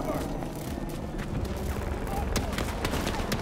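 Rapid gunfire in Battlefield 2042, dense bursts of shots from an enemy firing down from above, loud and continuous, with a player talking over it.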